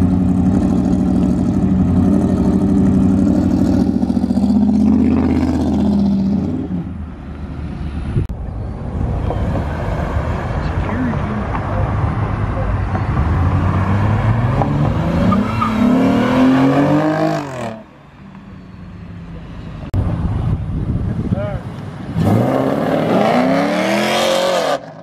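Cars leave the Townlake Cars and Coffee show, including a Corvette Z06, with loud engine revs rising and falling in pitch as vehicles accelerate past nearby, separated by brief lulls and ending in another sharp revving pass.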